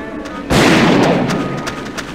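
A scope rifle fires in the forest hunting game Deer Avenger 3D: one sharp, loud boom cracks out and then rolls into a long, fading rumble.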